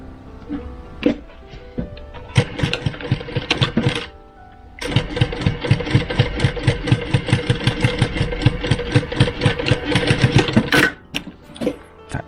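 An electric sewing machine stitches the end of a sleeve cuff in fast, rhythmic mechanical bursts, with a couple of short starts followed by a long continuous run, loud and close.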